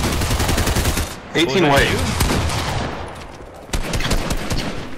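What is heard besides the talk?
gunshots in a shooter video game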